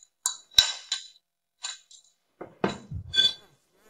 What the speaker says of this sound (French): Je tente de tout mélanger doucement